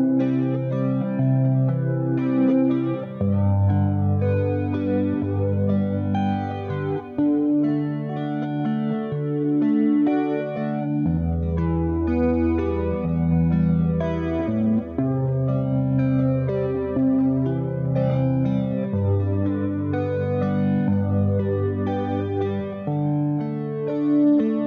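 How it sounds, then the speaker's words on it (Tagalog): An electric guitar loop layered through a Waymaker effects pedal, with sustained chords that repeat under distortion, chorus and echo, playing continuously and fairly loud with no talking. "Yung guitar na naglo-loop yung ganyan tunog."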